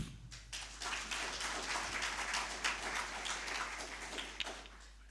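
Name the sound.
audience applauding the professor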